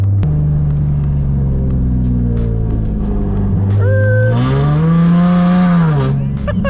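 A straight-piped Nissan 350Z drones loudly from inside the car while driving, its engine rumbling low and then climbing in pitch as it revs up and eases off.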